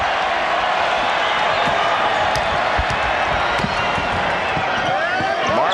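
Arena crowd at the 1993 NBA All-Star Game in Phoenix reacting to a missed Jordan shot with a sustained, loud broadband roar of cheering and whoops, with scattered thumps and squeaks in the mix.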